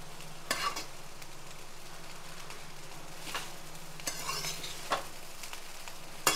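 Rice frying in a pan over a high flame, a steady sizzle with a spoon scraping and stirring through it in several separate strokes, close and fairly quiet, with no voices.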